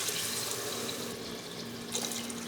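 About a cup and a half of water is poured into a pot of beef kofta curry with cooked onions and tomatoes, a steady close splashing trickle that continues for a couple of seconds.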